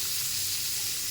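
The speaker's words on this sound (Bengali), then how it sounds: "একটু কড়া করে ভাজতে হবে" Fish frying in hot oil in a pan, a steady soft sizzle and hiss that holds evenly throughout the short stretch, with no voices.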